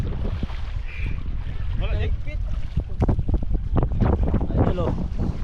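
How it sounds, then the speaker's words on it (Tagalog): Strong wind buffets the microphone with a constant roar while people talk over it outdoors, hauling in a fishing net. "Malakas idol ng hangin dito idol."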